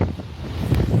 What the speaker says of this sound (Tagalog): Ay, grabe yung ulan. Malakas na hangin dito.